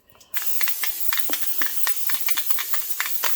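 A sustained hiss of cooking spray onto a casserole dish starts abruptly and continues steadily, with a few brief sputters in it, close and fairly loud.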